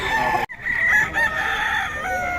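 Several chickens at a poultry market in Bocaue, with a rooster crowing loudly and close, its long call stretching over steady clucking and the murmur of the market.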